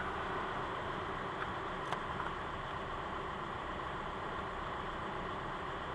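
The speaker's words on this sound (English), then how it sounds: "So the new pump is in, engine is running" A VW A4 TDI diesel engine, running on a newly fitted fuel pump after a fuel flush for gasoline in the diesel tank, idles with a steady, even hum and faint ticking and no talk.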